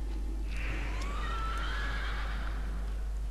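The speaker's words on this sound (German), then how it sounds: "Dann nehme ich mal mein Pferd" A horse whinnies in a single rising and falling neigh over a steady low hum and faint background noise, in World of Warcraft.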